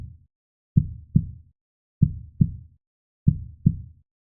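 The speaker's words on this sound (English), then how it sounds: "They snap shut to prevent backflow, that lub-dub sound you hear in a heartbeat." Heartbeat of the heart valves snapping shut, heard as three clear lub-dub pairs at a steady rhythm, close and low-pitched with silence between beats.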